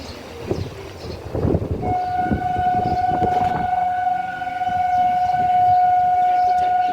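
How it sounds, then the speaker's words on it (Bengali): A Bongaon line train rumbles past a rooftop garden, its wheels clattering loudly up close before a long steady horn blast sounds and holds to the end. "দেখেছো বনগা লাইনের ট্রেন যাচ্ছে।"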